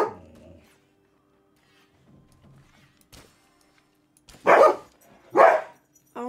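A dog in the Palia game barks in a few sharp bursts, with a short yip at the start and two loud barks near the end separated by quiet gaps.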